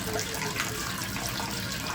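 Hot water runs from a kitchen tap as soaked zarda rice is drained, a steady splashing rush that holds evenly for the whole moment with no voices.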